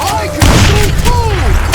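Gunfire and booming blasts in the Western shooter game Call of Juarez Gunslinger, heavy thuds from close range while a voice shouts over them.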